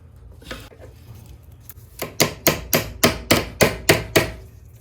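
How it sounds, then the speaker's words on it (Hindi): A screwdriver pressing a saree hook closed, making a quick run of about ten sharp metallic taps, close and evenly spaced, after a quieter start. "इसे हम दबा देंगे इसे पेचकस की सहायता से"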